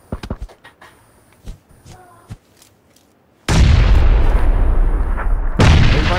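Grenades blasting in PUBG: a string of sharp distant pops and thuds, then a sudden loud sustained roaring explosion that rumbles on for several seconds with a second surge near the end.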